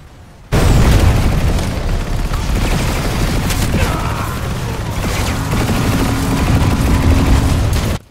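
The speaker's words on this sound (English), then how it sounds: "I'm just getting spammed with fucking grenades." Grenade explosions in the Planetside 2 video game, a dense, loud barrage of overlapping booms and blasts that starts abruptly and rumbles on without a break for several seconds.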